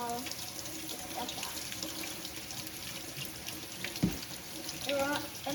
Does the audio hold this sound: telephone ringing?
no